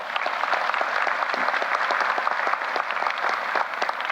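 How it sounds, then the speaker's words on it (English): Enthusiastic applause from a crowd at a university presidential investiture ceremony, dense and steady clapping throughout, fairly close and loud. "Give them a round of applause."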